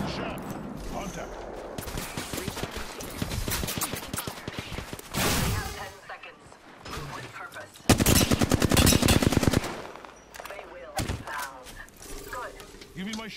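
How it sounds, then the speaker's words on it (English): Rapid bursts of automatic gunfire from an Apex Legends battle, with clustered rattling volleys and a dense fusillade near the end, heard up close. Voices talk over the shooting. "Taking fire. I'm under fire."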